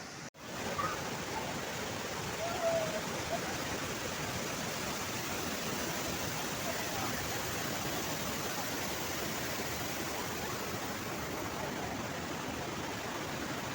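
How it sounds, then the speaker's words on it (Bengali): Dassam Falls near Ranchi, heard from above, makes a continuous broadband rush of falling water that stays steady and fairly distant throughout, with no voices. "এই উপর থেকে দশম ফলস খুবই সুন্দর লাগছে"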